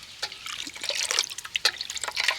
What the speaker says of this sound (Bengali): 4 থেকে 5 বার জল পাল্টে পাল্টে ভালো করে আলুটাকে ধুয়ে নিতে হবে।